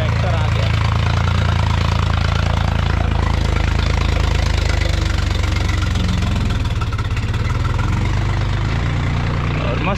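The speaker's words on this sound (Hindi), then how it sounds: "ये देखो ट्रैक्टर आ गया" A tractor engine pulls up at a rice field during paddy transplanting, its loud, low diesel rumble idling and knocking steadily close by for the whole stretch while someone talks over it.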